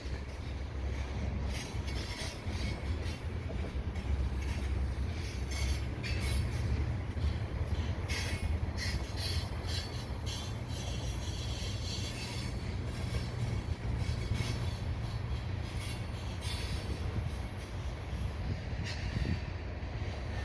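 A CPKC unit tanker freight train with CP and KCS locomotives rolls past at Dorval, a continuous rumble of wheels with rhythmic clatter and occasional squeals, steady and close for the whole stretch.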